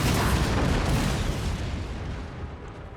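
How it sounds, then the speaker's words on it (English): Cannon fire in the PC strategy game Empire: Total War, a dense continuous roar of booming artillery rolling and slowly fading across the battlefield, with no voices. "Let's see if we can whittle them down with some of the cannon."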